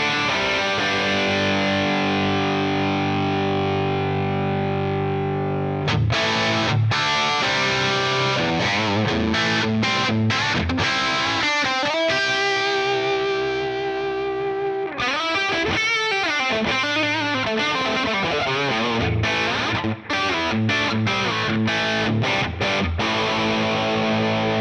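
Distorted electric guitar through a Mesa/Boogie amp simulation into a 4x12 Road King cabinet, playing sustained chords and then choppy, rhythmic palm-muted riffs with abrupt stops, loud and alone throughout.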